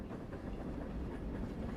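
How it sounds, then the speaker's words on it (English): Train rushing past in a rail yard without slowing, a loud, close, continuous rumble with a rattling clatter of wagons running throughout. "we watch a second train approach. It shoots by without slowing"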